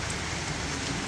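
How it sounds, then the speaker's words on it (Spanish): Heavy rain pours down steadily in a dense, hissing wash with no breaks. "cómo está cayendo la lluvia"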